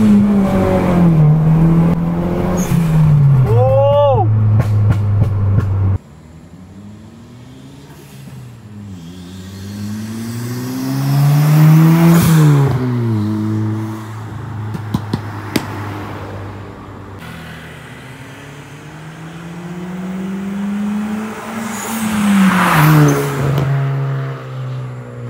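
Honda Brio turbo hatchback engine revving and accelerating hard through several gears on a test drive, rising pitch swells with shift drops, loud and close from inside the cabin.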